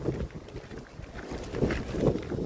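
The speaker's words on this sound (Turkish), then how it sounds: "Çok şiddetli rüzgar" Heavy wind roars and buffets the microphone in constant rumbling gusts, with no other clear sounds.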